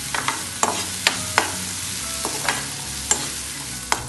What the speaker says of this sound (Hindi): चॉप्ड ऑनियन एंड चिली थोड़ा गोल्डन होने तक भुनेंगे।